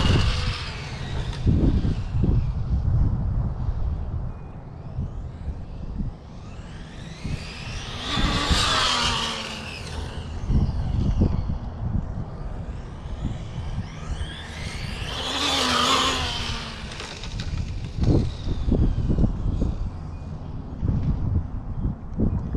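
A Traxxas 4tec 2.0 AWD brushless RC car drives outdoors, its electric motor rising in two loud whining passes over rumbling tyre noise and buffeting wind.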